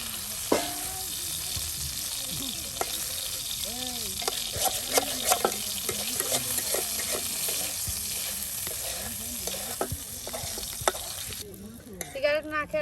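Chillies fry in a pan with a constant crackling sizzle, while a spoon repeatedly scrapes and stirs. Faint voices murmur in the background, and the sizzle fades near the end.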